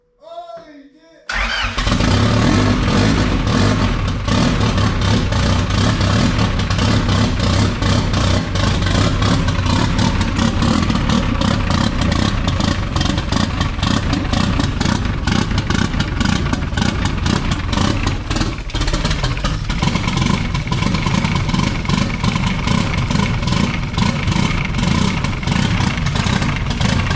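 A freshly rebuilt third-generation car engine on its first startup fires up after a brief spoken moment, then idles loud and rough with steady close-up rumble and clatter that continues for the rest of the clip, with occasional speech beneath.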